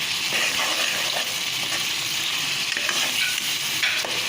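Garlic and garam masala sizzle steadily in a hot pan while a utensil stirs and scrapes through them, close and continuous.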